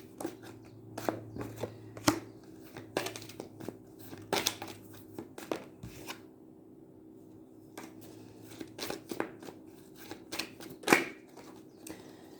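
A deck of oracle cards themed on current events is shuffled nearby, giving irregular soft taps and crisp card snaps over a faint steady hum, with occasional louder clacks.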